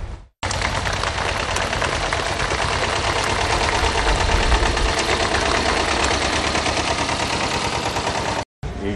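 An old Deutz tractor engine runs loud and close at a farm field day, its rapid knocking beat steady and continuous from start to finish.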